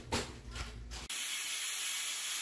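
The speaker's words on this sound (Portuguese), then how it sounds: "Agora eu vou esperar sair a pressão aqui para mim abrir a panela" A pressure cooker cooking canjica vents steam in a few quick puffing bursts, then settles into a loud, steady, continuous hiss heard alone.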